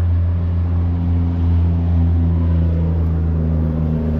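A 2006 Peterbilt 335 single-axle truck on tow, its low engine drone holding steady and loud throughout with a constant rumbling hum and no talk.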